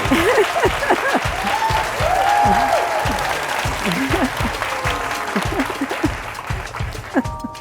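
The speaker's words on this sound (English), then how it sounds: "They're giving you a standing ovation." A standing ovation for Nancy Pelosi at an Atlantic festival event: loud, sustained crowd applause with cheering and overlapping voices, tapering slightly toward the end.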